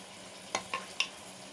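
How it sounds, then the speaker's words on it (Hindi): Chopped medium-sized onions, three of them, tipped into a pan over a high flame, giving three quick clattering splashes of pieces landing in hot oil, close and fairly faint, then a low steady sizzle with no voices. "फ्लेम को अब हम हाई पे करेंगे और ये कटी हुई प्याज, 3 प्याज हैं मीडियम साइज की, इसको इसमें डाल देंगे"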